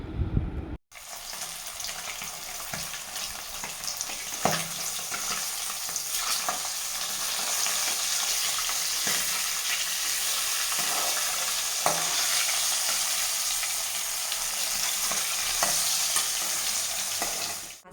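Fish curry cooking in a pan on a home stove, with a continuous bright sizzle and hiss and occasional clinks of stirring, close and steady throughout with no talking.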